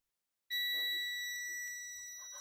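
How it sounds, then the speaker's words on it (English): After brief silence, a sharp, high-pitched electronic beep from a Dell Inspiron 15 3542 laptop board that won't power on starts suddenly and holds as a continuous tone, slowly fading slightly. "you can hear the beep"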